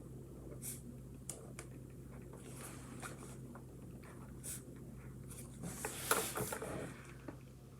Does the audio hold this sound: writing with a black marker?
yes